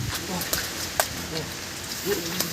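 Rain falling during Typhoon Odette, a steady dense patter with scattered louder drops striking a nearby surface, with a person talking over it.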